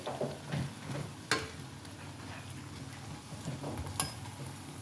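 Pakora frying in hot oil with a steady soft sizzle, broken by a few sharp scrapes and clicks as pieces are stirred and flipped; no voices.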